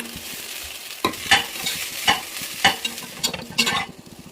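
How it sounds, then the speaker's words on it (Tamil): Cooked rice being stirred into a frying pan for egg mint rice, with salt added, scraping in a series of sharp, close strokes over a low sizzle, roughly one every half second. "சேர்த்துக்கிட்டு நம்ம வேக வச்ச ரைஸையும் இதோட சேர்த்துக்குவோம்"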